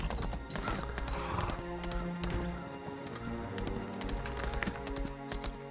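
A horse's hooves clip-clop steadily in the video game Lost Ark, a quick, even trotting rhythm heard under soft game music, with a possible brief whinny.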